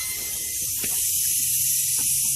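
Compressed air hisses steadily from the cylinder head of a Ford 6.0 diesel engine during an HPOP air test, forming a continuous close, loud rush with a brief soft knock partway through.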